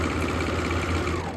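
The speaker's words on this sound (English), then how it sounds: "the serger is cutting off that extra material and creating that serged overlock seam" A serger overlock machine stitches and trims a shirt seam, giving a steady, close mechanical whir with a fast, even rhythmic chatter that runs unbroken for the whole moment.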